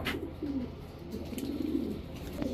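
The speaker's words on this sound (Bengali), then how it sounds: "এখন দেখাবো এক জোড়া ইন্ডিয়ান কাকজি চুইঠাল।" A pair of Indian Kakji Chuithal pigeons coo close by, giving low, repeated throaty coos over a faint steady background hum.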